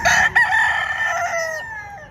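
A rooster crows loudly and close among chickens at a livestock market in Padre Garcia, Batangas, one drawn-out call that falls away at the end.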